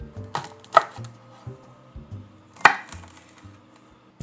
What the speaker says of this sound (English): you wanna chop off the heads of 4 of these asparagus spears